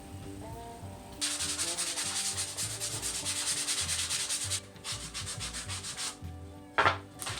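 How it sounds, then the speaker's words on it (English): Wood being sanded for a handmade Father's Day craft gift, a steady loud rasping rub that starts after a second and runs for several seconds, then cuts out with a brief scrape near the end. "After we're done sanding"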